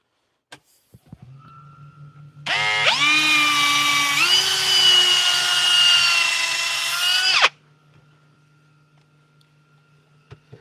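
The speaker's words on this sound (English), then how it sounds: "Do the drill." A power drill whirs steadily for about five seconds, loud and close, its pitch stepping up slightly midway before cutting off.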